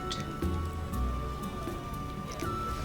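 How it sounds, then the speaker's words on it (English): Rain patters in The Witcher (2007) video game, a soft continuous spatter of drops under lower game ambience and a faint steady tone. "Raining."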